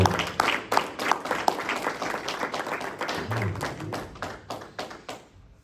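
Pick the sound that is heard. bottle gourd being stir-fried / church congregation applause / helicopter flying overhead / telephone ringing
church congregation applause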